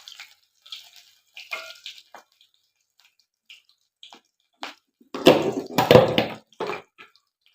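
Short splashes and trickles of boiled cooking water poured in quick bursts into a grinder for cauliflower butter gravy, building to a louder gush near the end, close by in a quiet room.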